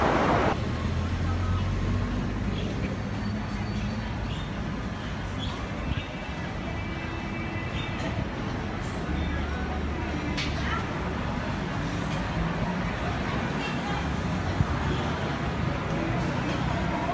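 Dense, continuous roar of traffic on the eight-lane PIE expressway in Singapore, heard from a bridge above, with passing cars, buses and trucks blending into a steady broadband rumble.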